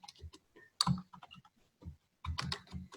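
Python code being typed on a computer keyboard, with close, uneven clusters of clacking keystrokes and short pauses between bursts.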